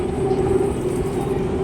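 Inside a moving train in the UK, a steady loud rumble of the carriage fills the air, with a constant low drone and rolling rail noise.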